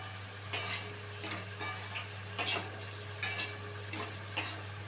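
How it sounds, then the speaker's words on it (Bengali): A spoon scrapes and stirs potatoes, onions and green chillies in a frying pan, with about five distinct sweeping strokes at an unhurried rhythm over a low, steady sizzle. "আলু, পেঁয়াজ, কাঁচা লঙ্কা ভালোভাবে মিশিয়ে নিচ্ছি।"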